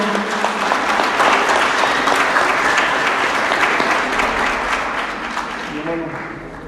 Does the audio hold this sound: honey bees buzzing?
no